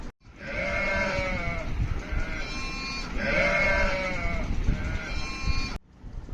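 Sheep bleating in two long, loud, wavering calls close by, each lasting a couple of seconds with a short gap between, with no voices.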